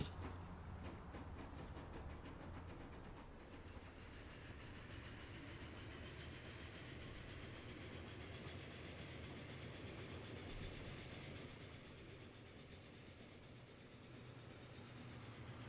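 A train rolls along in Transport Fever 2, a continuous low rumble with faint clickety-clack, steady and moderately distant with no talk.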